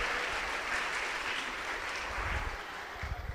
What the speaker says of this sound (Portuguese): Dê uma salva de palmas a Deus.